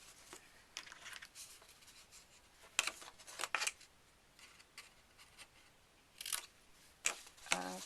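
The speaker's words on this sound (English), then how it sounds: "and this one should be done with a very good sharp scissors." Sharp scissors snip paper for a handmade mini-album in a few quiet, close, irregular cuts spread across the stretch, with soft rustling between them and no talking.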